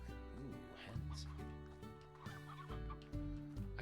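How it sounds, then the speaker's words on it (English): Hens clucking in the video game Slime Rancher: repeated throaty clucks and warbling calls over a steady tonal background score, fairly quiet, with no talking. "Ooh, hens."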